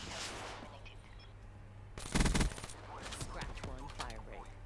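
A short, sharp burst of rapid gunfire in Black Ops 3 rattles out, surrounded by quieter game sounds and a voice speaking faintly in Dutch.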